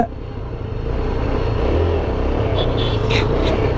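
A motorcycle engine idles roughly and unevenly as if about to stall, a close, loud, low rumble that holds for a few seconds with faint background noise.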